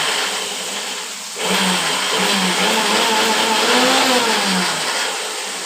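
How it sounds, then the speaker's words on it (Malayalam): A mixer grinder crushes dried red chillies and curry leaves. After a quiet start, its motor kicks in with a loud, steady whirring whine that holds for several seconds and then eases slightly. "നമുക്ക് ഈ മുളകും പിന്നെ വേപ്പിലയും കൂടെ ഒന്ന് മിക്സിയിലിട്ട് ക്രഷ് ചെയ്ത്"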